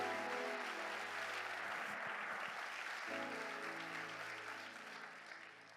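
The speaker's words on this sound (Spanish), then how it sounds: "Dele un aplauso al Señor" Church congregation applauding during a Spanish-language sermon, a broad steady wash of clapping that carries on for several seconds, with sustained organ or keyboard tones underneath and a slight fade toward the end.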